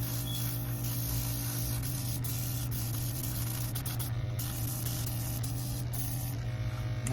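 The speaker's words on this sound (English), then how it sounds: "that's the good thing about these airbrushes" An airbrush sprays thinned paint onto a custom G.I. Joe Classified figure with a steady close hiss, over a constant low compressor hum, with a few brief clicks along the way.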